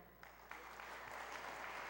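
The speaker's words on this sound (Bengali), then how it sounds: "আমরা আরেকবার মঞ্চে উপবিষ্ট সকল অতিথিদেরকে করতালির মাধ্যমে ধন্যবাদ জানাই" At an international Bangla festival and book fair in New York, a faint audience starts applauding for guests seated on stage, the clapping building quickly into a steady wash.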